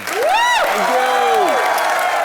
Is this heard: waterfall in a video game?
no